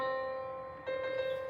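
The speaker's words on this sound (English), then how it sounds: "Octave up sounds like this." A sustained musical note rings clearly, then a second note an octave higher enters partway through, both held steady and fairly quiet with no voices.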